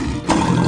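A lion gives a short, loud, gruff roar that bursts in after a brief low rumble, heard close and alone.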